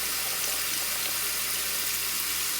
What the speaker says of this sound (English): let your tap water